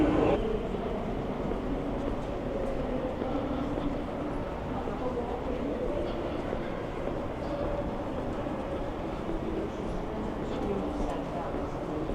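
A train stands at platform 17 of a railway station, giving a steady low rumble and hum that runs unbroken throughout, with a murmur of voices in the background.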